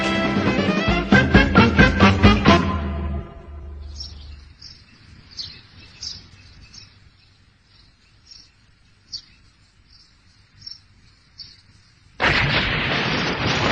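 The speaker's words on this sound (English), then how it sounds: "Hey, Doc, isn't it a bit early for explosions?" A loud, sudden explosion in a video game bursts in near the end, after a quiet stretch of faint chirping tones that follows a run of rhythmic hits.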